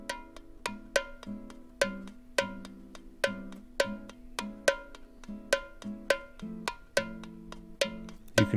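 Sharp, close percussion hits land in a steady rhythm, recorded with a close Shure Beta 58 microphone, each strike crisp and dry with a short decay, sounding near and clear.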